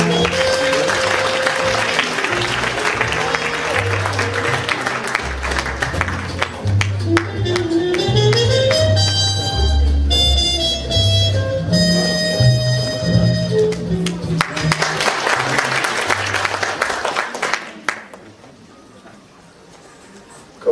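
Sustained audience applause in a hall at a year-end gala, welcoming a speaker to the stage; loud continuous clapping with background music, fading out near the end.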